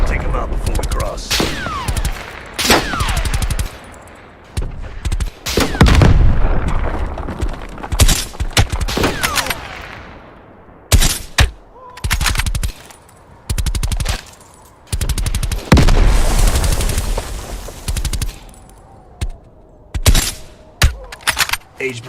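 Bursts of automatic gunfire and single shots in Call of Duty Black Ops Cold War ring out loud and close. The firing comes in repeated volleys broken by short pauses, with occasional ringing and mechanical clatter between them.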